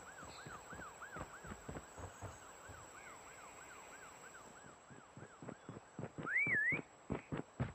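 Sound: prop hunt whistle in Call of Duty: Mobile video game

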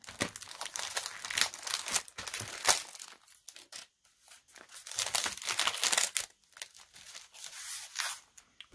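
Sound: thin paper being handled and crinkled

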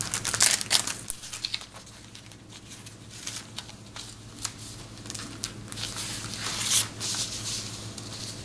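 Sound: handling thin rice paper

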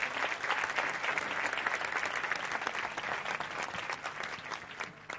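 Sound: audience applause

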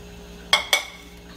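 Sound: covering a pot of boiling water with a lid

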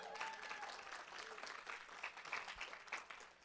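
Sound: applause

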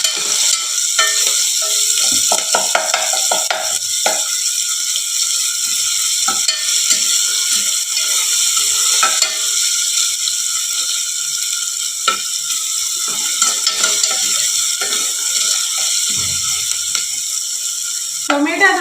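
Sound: masala frying and being stirred in a pan

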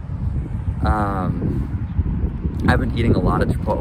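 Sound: strong wind blowing on the microphone

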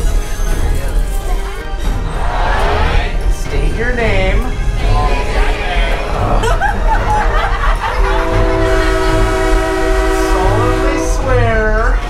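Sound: wizard train ride with horn

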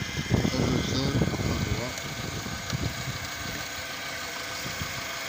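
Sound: car engine idling after repair

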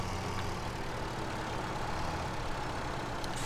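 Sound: classic Massey Ferguson tractor engine idling, Farming Simulator 17 video game

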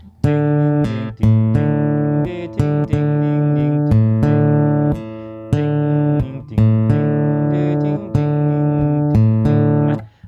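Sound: guitar with added A bass note

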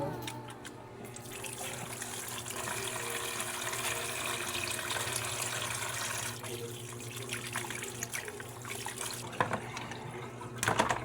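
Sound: water running while washing

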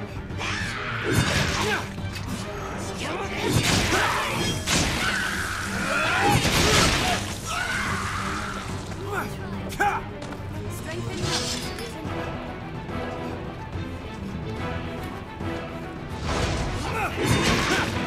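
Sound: ballista turret being smashed in Dragon's Dogma video game

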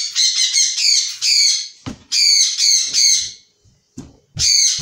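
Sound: bird squawking

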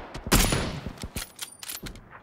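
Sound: gunfire in the video game PUBG

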